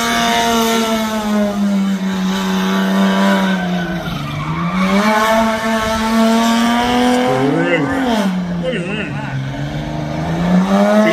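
A race car engine at a motorfest revs hard, its loud, sustained buzzing tone rising and falling in pitch as it climbs through the revs, with a sharp swoop and tire squeal midway.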